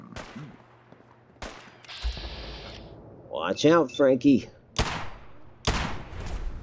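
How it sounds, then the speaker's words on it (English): Gunfire in Fallout 4 during gameplay: a few sharp shots crack out amid game sounds and chatter, with someone talking between bursts and loud sharp reports near the end. "Still more gunfire."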